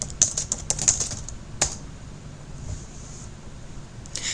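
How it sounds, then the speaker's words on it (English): Keystrokes on a computer keyboard while entering text into a mind-mapping program, a quick burst of close clicks in the first second and a half, then mostly quiet with a final few taps. "simply click on the box and type."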